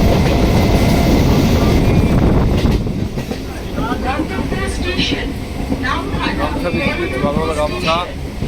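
A passenger train on a Namkhana-line journey out of Kolkata toward Bakkhali rumbles loudly on its rails for the first few seconds, then eases into a steadier clatter beneath a busy carriage with voices and chatter.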